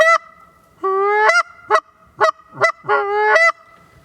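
A handheld goose call imitates Canada goose honks: about seven sharp, two-toned honks in an uneven rhythm, loud and close, with short silences between them.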